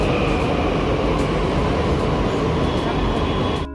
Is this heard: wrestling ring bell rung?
no